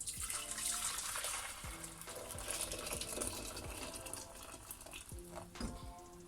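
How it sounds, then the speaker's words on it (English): Hot water from a freshly boiled kettle pours into a pot, a steady close splashing with a few clinks and knocks of the pot across the whole pour. "I've just boiled my kettle. I'm going to take that off the pot. Fill the pot up."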